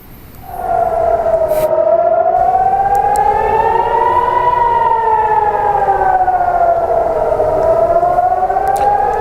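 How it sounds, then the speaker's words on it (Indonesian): Civil defense warning siren in Nahariya, Israel, during a rocket attack, rising and falling in a long continuous wail that starts after a brief quiet moment, loud and steady. "Sirene terus meraung saat beberapa roket melintasi langit kota Naharia"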